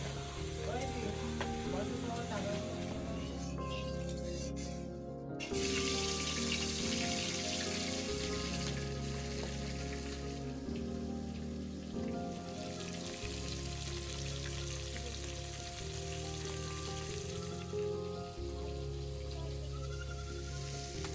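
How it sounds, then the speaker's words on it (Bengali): Salted, turmeric-rubbed bhetki fish pieces fry in hot oil with a dense, continuous sizzle and crackle, close and steady throughout, over a faint background hum and no talking. "যেগুলো পিস আছে লেজা আছে সেইগুলোতে পরিমাণ মতো নুন আর হলুদ মাখিয়ে এগুলোকে ভেজে নেওয়া হবে"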